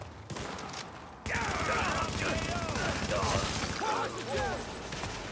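Dense gunfire rattles in a shootout in The Division while a deployed turret fires rapid bursts, loud and sustained, with voices calling out over the shooting.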